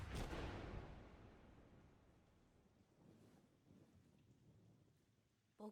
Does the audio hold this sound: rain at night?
yes